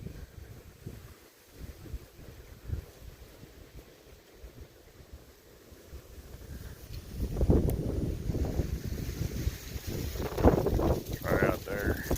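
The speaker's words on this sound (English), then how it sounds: "This wind is killer today." Strong outdoor wind buffets the microphone in low rumbling gusts that grow heavier in the second half, with a voice briefly heard under the noise.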